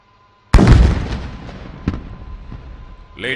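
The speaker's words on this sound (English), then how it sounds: "they are now ready to execute the kamikaze strikes using this map for terminal effect" A kamikaze drone strike on a mock terror hideout at an army day demonstration: one sudden, loud, close explosion that rumbles and decays over a few seconds with scattered pops, then voices begin at the end.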